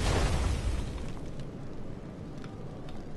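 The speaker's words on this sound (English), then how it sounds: "That's artillery." An artillery shell bursts in Star Wars: The Old Republic with a loud, deep boom at the start that rolls off into a fading low rumble over a few seconds.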